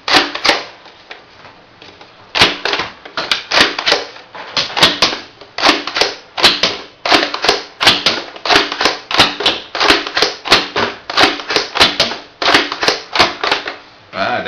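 A Nerf N-Strike Firefly REV-8 dart blaster fires darts in rapid succession, a long run of sharp, close snapping shots with a few short pauses, loud and steady over roughly fourteen seconds.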